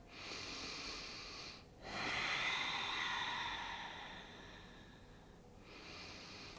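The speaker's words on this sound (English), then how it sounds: "And just take a deep breath." A deep breath taken during a gentle yoga practice: a long, soft airy inhale and exhale close to the mic, paused briefly and then followed by another slow breath.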